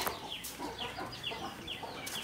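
A brooding native country hen clucks low and repeatedly at close range while her chicks peep in high, rapid chirps all around.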